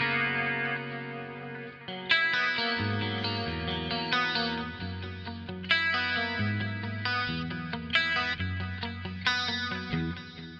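Electric guitar played through an 80s clean preset in Two Notes Genome software, bright chorused chords and picked notes ringing with echo and reverb, phrases restruck every second or two, no talking.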